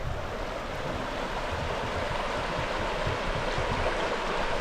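Steady rushing flow of a river at a quiet bush spot, a continuous broad wash of water that stays even and fairly close throughout with no voices.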